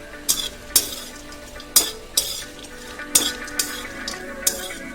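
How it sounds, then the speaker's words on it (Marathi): Coconut roasting in a kadhai, stirred with a spatula that scrapes and clinks against the pan in sharp, irregular strokes over a soft background. "आता याच कढईमध्ये आपण खोबरे ही छान भाजून घेणार आहे"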